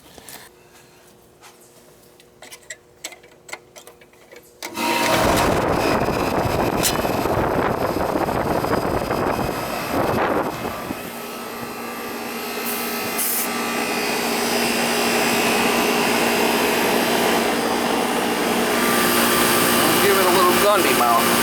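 An old R22 home air conditioning system that is not cooling and has a major refrigerant leak is quiet at first, then kicks on abruptly and keeps running with a loud, steady mechanical roar and whir.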